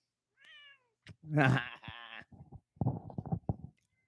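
A short high meow is followed by a louder, drawn-out cat cry and a string of quicker meowing calls, close by and clear.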